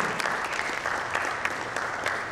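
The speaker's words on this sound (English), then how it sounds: "A big round of applause to Mr. Singh." Audience applause greets a panel speaker at a customer-experience summit, a brief steady burst of many hands clapping at moderate volume.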